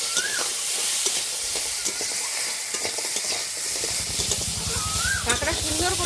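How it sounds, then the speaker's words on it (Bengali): Crabs frying in a pan with turmeric and salt, a loud, close, continuous sizzle and hiss with bursts of stirring and crackling, rising into rapid bubbling spatter near the end. "কাঁকড়া সুন্দর করে ভাজা হয়ে গেছে।"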